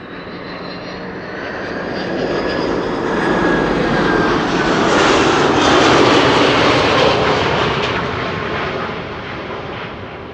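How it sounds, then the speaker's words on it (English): A Delta Airlines jet airliner arriving from Detroit at Amsterdam Schiphol makes a loud, continuous engine roar that swells as it passes close, peaks around the middle, then slowly fades, with no voices. "This is Delta Airlines flight 136 arriving from Detroit, Michigan."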